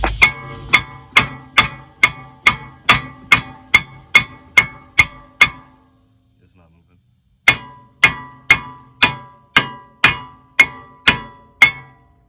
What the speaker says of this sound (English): When you hit it from the back, it doesn't want to come off.